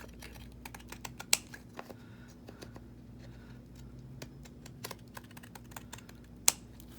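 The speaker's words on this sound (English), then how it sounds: "get our pinking shears to just click," Pinking shears snip through paper in quick, light clicks, irregular and close, over a faint steady hum, with two sharper louder clicks standing out.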